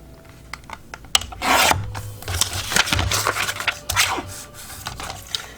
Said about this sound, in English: I'm just gonna cut this all up right now so I don't have to do it later.